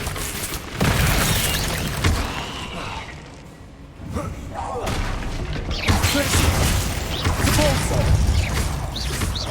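Explosive Bombarda spell blasts in Hogwarts Legacy gameplay, heavy booms and crashing debris roaring almost continuously with a brief lull, loud and dense over game sound effects.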